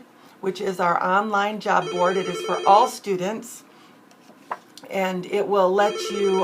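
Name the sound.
telephone ringing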